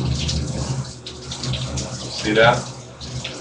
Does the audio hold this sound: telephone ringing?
no